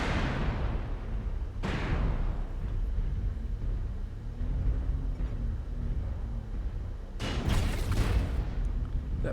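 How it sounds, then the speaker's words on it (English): Incoming missiles explode in the mech combat game MechWarrior Online. Three heavy booms land near the start, a second or so later and toward the end, over a continuous low rumble with no speech. "Warning, incoming missile."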